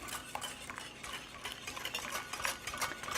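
Egg yolks being whisked in a bowl as scalded cream is added, a quick rhythmic whisking clatter, close and steady throughout.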